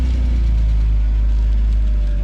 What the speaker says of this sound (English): but if we start the car up